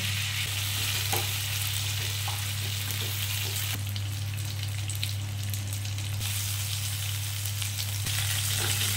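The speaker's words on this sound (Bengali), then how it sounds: "এই তেলের মধ্যে আগে পটলগুলোকে দিয়ে দেবো" Pointed gourd pieces fry in hot oil seasoned with bay leaves, giving a dense, constant close sizzle with a low steady hum underneath and a few faint clicks, no voices.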